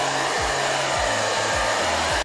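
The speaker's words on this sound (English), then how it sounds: "it sounds like a normal hairdryer just with some lights on it" A Japanese LED hairdryer blows a steady, loud rush of air throughout, with a low hum that shifts pitch in a few brief sweeps. No talking.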